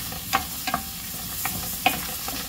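Black pepper and garlic sizzle in a hot pan under a steady hiss, with a few sharp scraping stirs of a utensil standing out near the start and again later.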